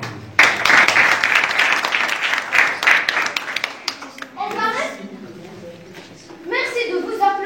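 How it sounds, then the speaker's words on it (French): A school class applauds with dense clapping from many hands that fades after a few seconds, followed by children talking. "Merci de vos applaudissements."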